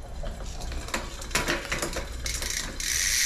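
A Giant Trance X 2025 mountain bike's drivetrain gives off a run of close, dry mechanical clicks and ratcheting ticks while the gears are adjusted, with a brighter, harsher burst near the end.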